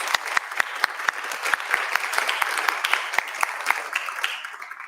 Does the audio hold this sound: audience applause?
yes